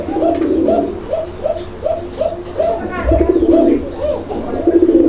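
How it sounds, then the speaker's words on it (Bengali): Repeated cooing from a male Golla pigeon in a Bengali fancy-pigeon farm, about ten rhythmic coo phrases close to the mic, with a light background murmur and a thump near the middle. "দেখছেন ডাক, এটা হচ্ছে কোকা, একদম বাসিরাজ কোকা, ডাক একদম ভরপুর আছে মাশাআল্লাহ"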